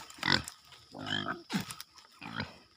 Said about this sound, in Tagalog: ito naman yung ating alagang baboy naman mga kapobre